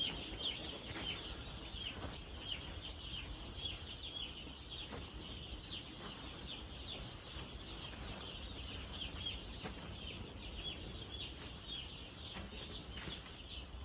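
Many chickens on a poultry farm chatter and cluck at once in a constant, fairly faint background din, with occasional sharper calls standing out.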